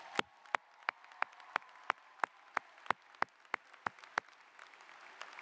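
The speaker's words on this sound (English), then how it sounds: "Give yourselves a round of applause." At a spring graduation ceremony, a standing audience claps in a steady unison rhythm. The claps are sharp and evenly spaced, about three per second, over a low murmur of the hall.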